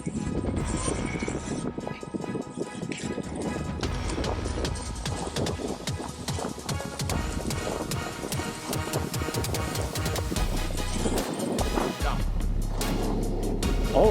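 Voyager electric skateboard ridden flat out, a continuous rush of wheel roar and wind buffeting with rattling bumps from the road surface, loud and close throughout.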